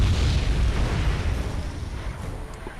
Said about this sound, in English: Especially after all this artillery